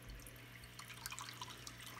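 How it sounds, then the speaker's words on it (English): Water poured into a pot at a kitchen sink, a faint close trickle with light dripping and splashing, quiet and brief, with no talking. "Then we're putting in the water."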